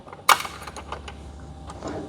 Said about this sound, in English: Then your lock nut, and start tightening. 13mm wrench,